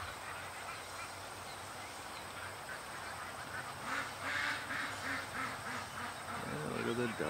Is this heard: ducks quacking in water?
yes